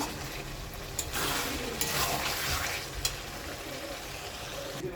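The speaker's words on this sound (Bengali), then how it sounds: "আমার এখন এই চামড়া ভুনাটা করবেন তেলটা কম দেবেন" Chicken skin frying in oil in a pan, giving a steady close sizzle with a few sharper crackles and stirring scrapes, no talk.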